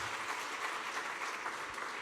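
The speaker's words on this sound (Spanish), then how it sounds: "¿Cuánto le damos un aplauso al Señor?" A church congregation claps steadily, a dense and even wash of applause that lasts throughout and is heard from a moderate distance.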